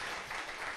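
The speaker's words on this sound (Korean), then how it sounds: "박수 안 주세요?" Brief burst of audience applause at a talk or panel event, a dense, steady wash of clapping lasting under a second with no voices over it.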